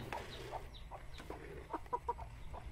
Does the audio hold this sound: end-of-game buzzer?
no